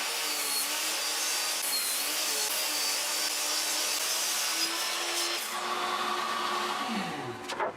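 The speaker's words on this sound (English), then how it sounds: "to chop them up using the miter saw" A miter saw whines steadily through rough sawn walnut boards, a loud continuous close-up motor drone with cutting rasp that shifts in pitch near the end as the blade spins down.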